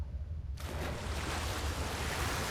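A character plunges into water in Ark Ascended's Aberration map. After a brief quiet moment comes a sudden loud rush that settles into a steady, dense underwater wash and rumble, with no voices.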